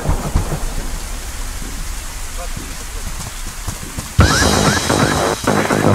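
Steady rain hisses through a video game's stormy scene, then a sudden loud rumble of thunder breaks in near the end and holds over the downpour; a voice may briefly speak beneath it.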